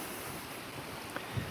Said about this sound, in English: It is windy out here today.